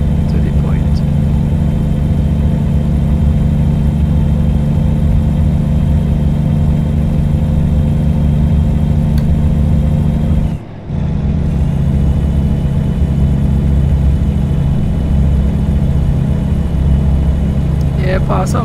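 An underpowered truck in American Truck Simulator drones loudly under heavy load, a steady low engine hum with a brief cut midway before resuming, with voices talking over it.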